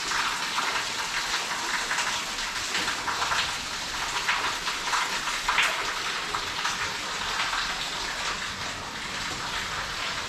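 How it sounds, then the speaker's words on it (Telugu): Rainwater pours down from above in a heavy, unbroken rush, a loud, steady wash of splashing water with no voices. "వాటర్ పడుతుంది అక్కడి నుంచి పడుతుంది."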